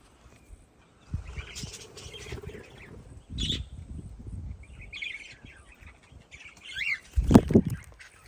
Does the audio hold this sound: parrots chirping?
yes